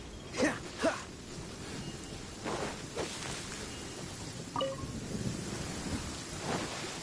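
Steady rain with low thunder rumbles in a Genshin Impact game scene, a couple of soft rolls early and a few more later, hissing evenly throughout at moderate distance with no talk.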